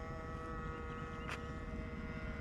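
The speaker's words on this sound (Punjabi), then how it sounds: "ਵੇਖ ਹੁਣ ਉੱਤੇ ਜਹਾਜ਼ ਉਡਿਆ ਫਿਰਦਾ" A large electric radio-controlled scale helicopter modeled on the black Airwolf Bell flies overhead, giving a steady, faint motor whine with tonal hum over low rumbling background noise.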